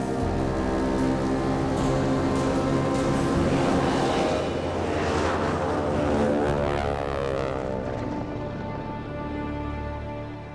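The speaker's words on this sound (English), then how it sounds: "Buffalo Airways C-46 is finally back up and running and heading home to Yellowknife for" A Buffalo Airways Curtiss C-46 piston airliner runs in deep winter cold near Yellowknife, its propeller engines droning loudly and steadily up close, with a dense, even roar that eases slightly toward the end.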